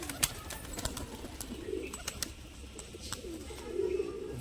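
Pigeons with white eyes and feathered feet murmur in soft low coos amid sharp clicks and shuffling, a moderately quiet, uneven bed of bird sounds with no talking.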